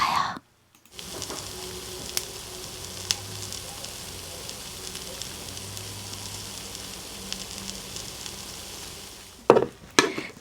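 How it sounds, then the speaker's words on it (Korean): Milk toast fries in a pan with a soft, steady sizzle, quiet and continuous throughout, with a few faint clicks and a short clatter near the end. "밀크 토스트가 맛있게 구워지는 소리"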